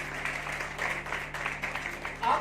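An audience at a business-plan seminar applauds in a steady wash of clapping that runs throughout, with a low hum underneath.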